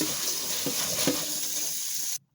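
Tap water runs steadily while rice is rinsed, giving a continuous splashing hiss with a couple of brief louder splashes, then cutting off abruptly near the end.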